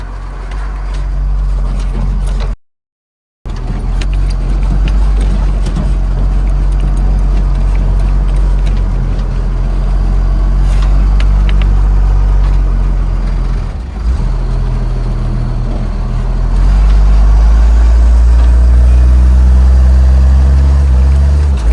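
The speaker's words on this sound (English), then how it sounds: "I'd say the military truck's running okay." A military truck engine runs steadily near ice and water, a loud, constant low rumble with a brief dropout and a slight surge in the final seconds, with no talk.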